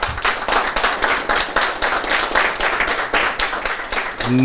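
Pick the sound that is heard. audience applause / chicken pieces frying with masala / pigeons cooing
audience applause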